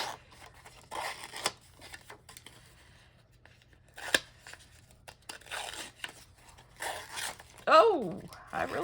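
A paper-crafting distressing tool scrapes along a paper edge in short rasping bursts, several close strokes with pauses between, ending in a sharper, louder scrape.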